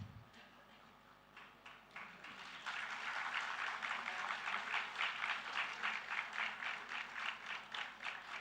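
A school Founders' Day crowd breaks into sustained applause for the Sports Person of the Year award, faint at first and then swelling into steady, dense clapping that continues to the end.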